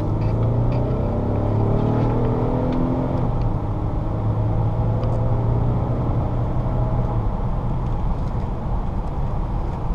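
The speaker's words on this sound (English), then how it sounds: "A little hard acceleration there" A 2003 Buick Park Avenue engine pulls hard under acceleration, a loud, steady roar with rising harmonic tones that climbs continuously for the whole stretch, no voices over it.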